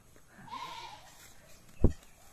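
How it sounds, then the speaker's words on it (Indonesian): Goats bleating while being fed, a faint, distant bleat near the start, then a short sharp thump or knock later over quiet rural background. "ganun talaga guys magpakain ng kambing"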